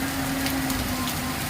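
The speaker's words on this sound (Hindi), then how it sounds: "बहुत जोरदार बारिश हो रहा है।" Heavy rain pouring down in a steady, dense wash of noise with a faint low hum underneath, close and loud throughout with no talking.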